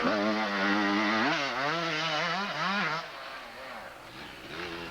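A vintage motocross dirt bike from the early 1990s revs on a private practice track, its engine pitch rising and falling in repeated throttle blips, loud and fairly close, then easing lower.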